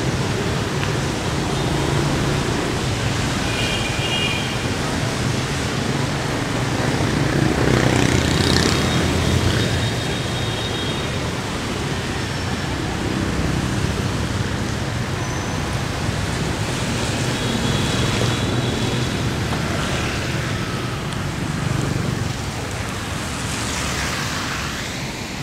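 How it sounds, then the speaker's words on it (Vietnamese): Heavy rain pours on a Saigon street, a steady broad hiss with distant traffic rumbling beneath and the odd faint horn, continuous throughout. "Mưa thì cũng to nhưng mà nhanh hết."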